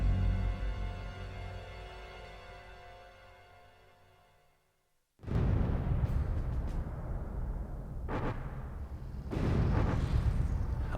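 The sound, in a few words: mortar fire thud, WWII documentary sound effect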